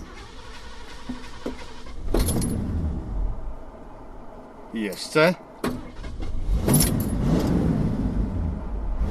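A car engine idles with a low rumble while someone talks over it, with clicks, a jangle of keys and a whirring window in between.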